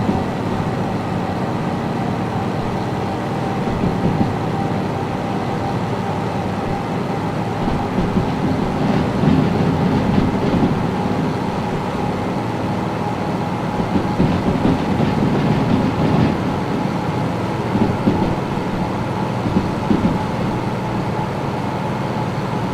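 A train runs in the VR railway game Derail Valley, a steady rumbling roll with faint rhythmic rail clatter and mechanical whine, continuous and fairly loud with no talking.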